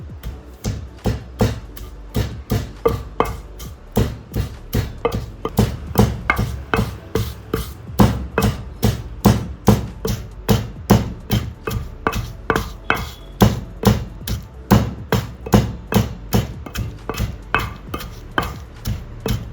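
Garlic and green chilies are pounded into a paste in a mortar while preparing a raw green mango chutney: steady, close, rhythmic thuds at roughly two strokes per second, continuing without pause and with no talking.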